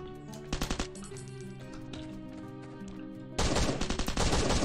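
Automated turret in the mobile survival game Rust Mobile firing bursts of rapid shots, first a short volley, then a quieter pause, then a louder sustained burst of rattling fire near the end.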